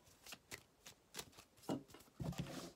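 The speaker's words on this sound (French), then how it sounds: "Alors, je vais juste prendre, tirer 3 cartes." Cards are drawn one after another from a deck during a tarot-style reading, producing soft, close papery slides and flicks that arrive in a few distinct bursts with no voices.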